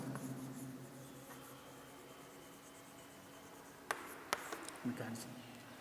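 Marker or chalk writing on a classroom board during an organic chemistry lecture, a soft continuous scratching stroke under steady room hum, with a few sharper taps and knocks near the end.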